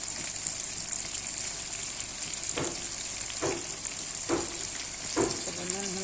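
Steady close sizzle of frying with salt and turmeric for a thin egg curry, broken by several soft scraping stirs of a spatula in the pan.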